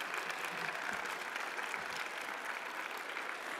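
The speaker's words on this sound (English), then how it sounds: "Another warm round of applause" A conference audience applauds after a presentation, a steady, even patter of clapping hands throughout, moderately distant and fairly quiet.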